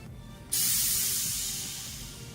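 Sudden sharp hiss of pressurized gas escaping as a bottle is opened, loud at first then slowly fading.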